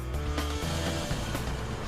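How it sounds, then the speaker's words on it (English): The Hawaii Superferry's 44,000 horsepower engines run at full power, a loud, steady low grinding roar with rushing water noise over it and no talk. "Captain Cleggett guns it, and the engines grind up to full power"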